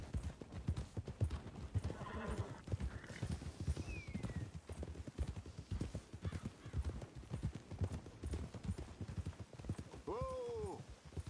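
Horse hooves clip-clop steadily through most of the scene in Red Dead Redemption 2, with a clear whinny near the end, all under ongoing spoken dialogue.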